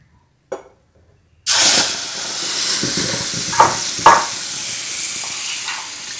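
After a quiet start and a soft knock, halwa mixture hits hot ghee with a loud sudden sizzle that keeps hissing, broken by a few stirring scrapes and clatters.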